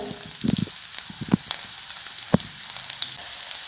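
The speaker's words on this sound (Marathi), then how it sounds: "इथं मोठा मोठा या प्रकारे लसूण ठेचून घेतलेला आहे, हे टाकायचे तेलात" Coarsely crushed garlic dropped into a ladleful of hot oil for a spicy spring onion dish, giving a steady close sizzle with a few sharp pops and stirring knocks.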